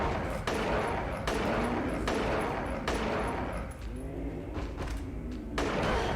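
Repeated gunshots from the Silent Hill 3 video game, a series of loud, dense bursts and thuds spaced roughly every second over a steady game soundtrack, with no talking.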